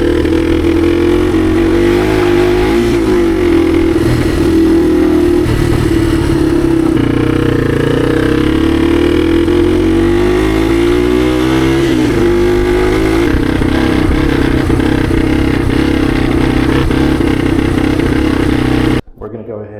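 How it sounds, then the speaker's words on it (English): A Yamaha TW200 motorcycle engine runs steadily up close, a loud continuous single-cylinder drone whose pitch shifts slightly as revs rise and fall, cutting off abruptly at the very end. "I'm going to run the bike, ride it, and then we'll check it."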